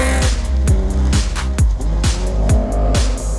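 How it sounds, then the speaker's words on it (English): A classic Datsun 240Z rally car blasts through a forest stage at Rally of the Bay 2019. Its loud, close engine revs hard through repeated rising gear pulls, with no voices. "This is a beautiful looking car and sounds just fantastic through the forest."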